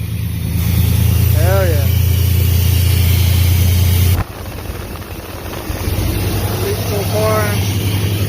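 A 1990 Chevy Cheyenne pickup with a 4.3 engine and MagnaFlow exhaust runs at a steady, loud idle, with a brief drop in level midway, while people talk and cheer over it.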